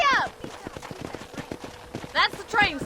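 Horse in the video game Red Dead Redemption, hooves clip-clopping in a steady galloping rhythm, with sharp whinnies at the start and twice near the end, close and clear.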